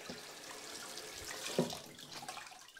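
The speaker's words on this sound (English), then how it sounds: "Run some water through." Tap water runs steadily through a large kitchen sieve to rinse salted shredded red cabbage, a continuous close splashing with a brief louder spatter partway through and no voices.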